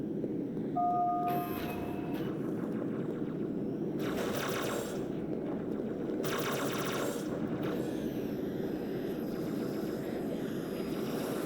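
Rapid bursts of plasma rifle fire in the Halo 2 video game, two dense volleys a couple of seconds apart over a steady, busy game soundscape with a few brief electronic beeps early on.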